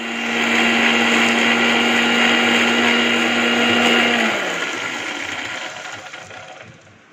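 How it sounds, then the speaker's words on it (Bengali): A kitchen blender grinds green chilies, whole garlic and cumin seeds with a little water, a loud steady whirring motor that runs for about four seconds, then winds down and fades out. "কিছু কাঁচামরিচ, গোটা রসুন আর গোটা জিরা সামান্য একটু পানি দিয়ে ব্লেন্ডারে ব্লেন্ড করে নিব"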